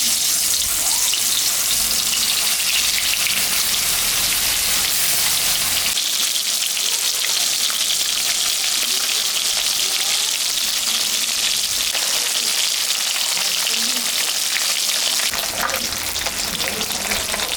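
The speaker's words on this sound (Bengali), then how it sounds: "এখন আমি মাছটা ভাজবো।" Catla fish pieces rubbed with salt and turmeric fry in hot mustard oil, a loud, steady crackling sizzle that runs throughout, briefly easing in the middle before picking up again.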